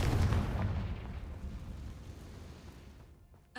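A Confringo blasting spell detonates in Hogwarts Legacy, a loud booming explosion that rolls out and decays over a few seconds, ending with a small pop.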